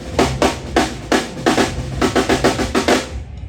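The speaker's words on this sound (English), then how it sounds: "That's called the snare drum." A snare drum is struck repeatedly up close, crisp sharp cracks in an uneven pattern that speeds into quicker hits near the end.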